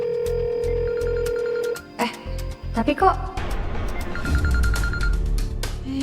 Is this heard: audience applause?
no